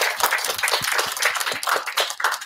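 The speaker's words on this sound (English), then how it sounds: "Now we applause to them." An audience claps for the organisers at a Python meetup, a lively burst of dense, close applause with distinct individual claps that stays strong throughout and fades briefly toward the end.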